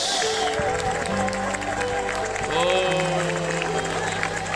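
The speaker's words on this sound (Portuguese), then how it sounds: "uma salva de palmas para Jesus" A church congregation applauds in a steady, dense patter of clapping that runs throughout, mixed with sustained music and singing tones in a large worship hall.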